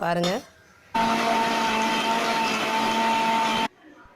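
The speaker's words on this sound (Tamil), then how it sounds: "இப்போ இந்த ஆற வச்சு நம்ம மிக்ஸி ஜாருக்கு மாற்றிடலாம்." A mixer grinder whirs loudly and steadily for nearly three seconds, with a high motor whine, grinding cooled sautéed greens, then cuts off abruptly; brief talk comes before it.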